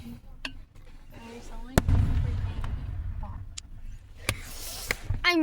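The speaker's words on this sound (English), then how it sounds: "I'm recording a video of fireworks." Fireworks bursting outdoors, with several sharp, loud bangs spread across the moment and crackling between them, while people murmur and talk in the background.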